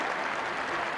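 Applause for the winning dog at the Crufts dog show, a brief dense burst of hall-wide clapping at steady volume.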